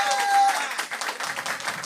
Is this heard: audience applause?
yes